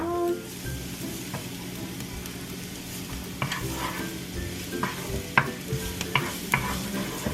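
Garlic frying in a pan with a continuous sizzle, broken by a few louder pops and stirring scrapes toward the end.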